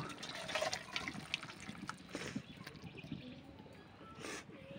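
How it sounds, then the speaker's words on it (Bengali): Cooked cauliflower and prawn curry poured from a pot into a bowl, a faint close liquid slosh and dribble with soft clinks of the vessel. "এই নেতাটা এই গামলায় ঢেলে নেব।"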